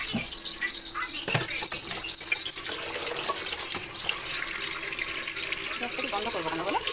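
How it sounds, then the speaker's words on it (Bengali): Tap water runs steadily into a pot being filled for boiling rice, a continuous close splashing stream lasting throughout with a few brief knocks. "এবার ভাতের জল বসাবো"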